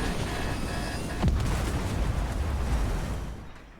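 A muffled explosion in Fortnite booms out with a low rumble that trails off over a few seconds, amid steady noisy background.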